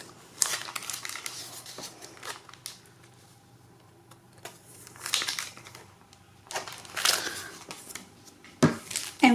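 Sticker sheets from a sticker book being handled, giving sparse bursts of close plastic crinkling and rustling separated by quiet gaps, with no voices.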